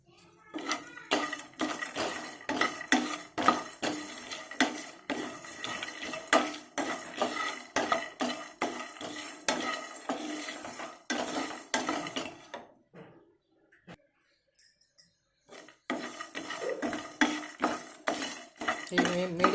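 Fenugreek seeds, cumin and dried coconut are fried over a medium flame and stirred in a pan. A spoon scrapes and clatters rhythmically against the metal, stops briefly for a pause, then starts again.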